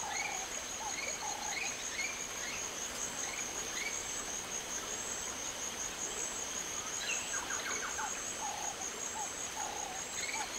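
Steady chirping of crickets and insects fills a night ambience in the point-and-click game Secret Files 2, with short repeated croak-like calls from a frog rising faintly over the constant drone.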